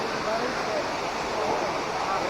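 The small Kiliyur waterfall in Yercaud: a steady, dense rush of falling water, loud and continuous throughout.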